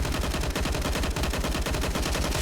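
Rapid automatic gunfire in Counter-Strike during an ESL Pro League match, with an HE grenade in the mix: loud, dense, unbroken bursts of shots rattling close together for the whole stretch.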